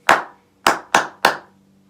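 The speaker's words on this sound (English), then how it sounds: "now if we were to clap it, it would sound like this" Hands clap the rhythm ta ti-ti ta, four crisp, close claps with a longer gap after the first and two quick ones in the middle.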